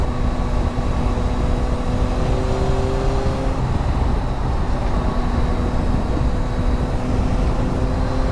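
A Yamaha Tracer 9 GT motorcycle cruises along a fast road, its engine a steady, loud drone wrapped in constant wind roar, with a brief shift in the engine note midway and no talk.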